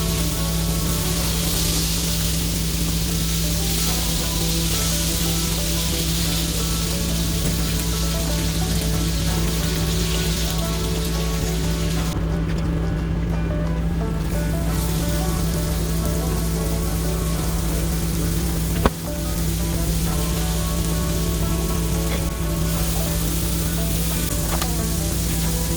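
Slider patties fry in a pan inside an RV, giving a steady, loud, hissing sizzle that runs without a break, with one sharp knock partway through.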